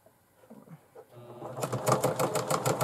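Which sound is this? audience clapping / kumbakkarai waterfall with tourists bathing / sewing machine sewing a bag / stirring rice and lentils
sewing machine sewing a bag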